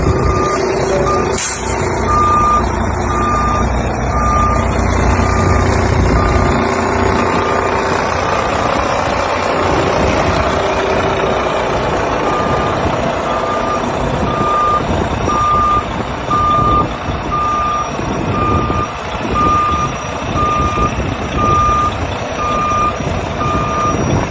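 A large truck's engine rumbles steadily and close while a high beeping warning tone repeats at a regular rhythm throughout.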